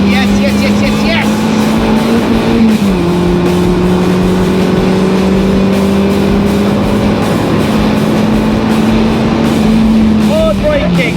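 A Mazda MX5 runs flat out at about 100 mph around the Castle Combe race circuit, its engine a loud, sustained in-cabin drone whose pitch dips briefly and then recovers as the car brakes and accelerates.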